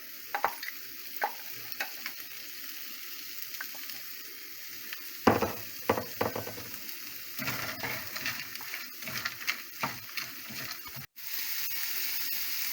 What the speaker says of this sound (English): Into this I'm going to add mixed vegetable, 1 cup.